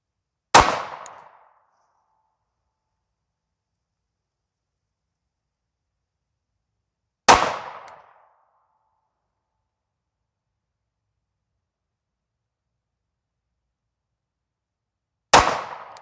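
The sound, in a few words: Sig P365XL pistol with Holosun EPS Carry dot firing rounds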